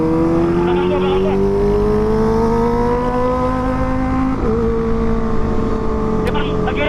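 A Kawasaki ZX25RR motorcycle fitted with a Proliner exhaust revs hard and close, its high-pitched engine note climbing steadily with a brief drop at a shift, then climbing again, loud and dominant.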